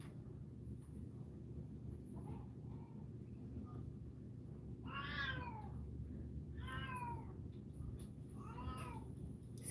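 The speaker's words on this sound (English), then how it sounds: "Excuse my cat." A house cat meows three times, drawn-out rising and falling calls spaced a couple of seconds apart over a low steady room hum, fairly close with no talking.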